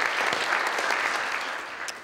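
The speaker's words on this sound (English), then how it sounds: "If you could all stand up and take our applause." Audience applause at an academic festschrift tribute, a steady sustained clapping from a crowd filling the room, tapering slightly toward the end.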